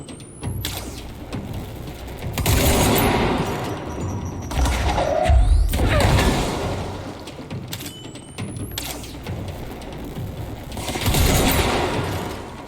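Gunfire in the video game Control, A Dark Place expansion, heard as several loud bursts of shots with booming impacts and mechanical clanks spread across the stretch, separated by quieter gaps.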